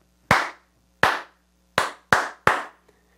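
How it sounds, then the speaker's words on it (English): Five sharp hand claps in an uneven rhythm, close and loud, with short silences between them and nothing else around. "I'm gonna clap it for you again."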